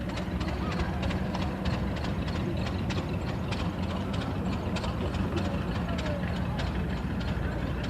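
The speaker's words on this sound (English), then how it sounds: "And a steam engine there just putting away." Antique steam engine chugging steadily at a 1986 parade in Shelbyville, Indiana, with a constant dense mechanical clatter and rhythmic ticking across the whole stretch, fairly loud and close under crowd bustle.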